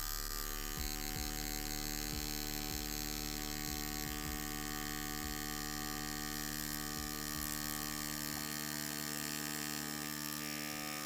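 A tattoo machine buzzes steadily at low voltage while lining a traditional style tattoo, a constant close electric hum with faint rhythmic ticks as the needle works.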